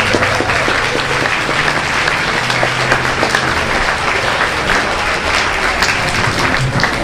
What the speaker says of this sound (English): should give her another round of applause for that